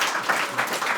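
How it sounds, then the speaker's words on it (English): Brief audience clapping at a Guru Nanak 550th birthday anniversary gathering, a short patter of hands from a crowd, fairly close and steady. "you should all give a clap to yourself"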